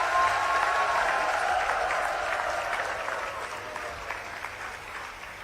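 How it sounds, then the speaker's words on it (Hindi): Steady applause from a sizable crowd at a government tree-planting event, loud at first and tapering slightly over several seconds, with no voices standing out. "जरा तालियां बजाकर स्वागत करें आप।"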